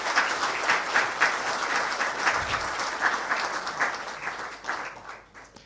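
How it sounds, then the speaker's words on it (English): Moderate applause from the audience at the U.S.-Malaysia Clean Tech Forum follows the Premier of Sarawak's keynote, steady and slightly distant, then fading away toward the end. "please give a round of applause for the Premier of Sarawak"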